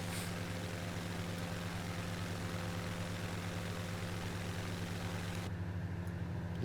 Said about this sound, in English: This engine doesn't sound too good, does it?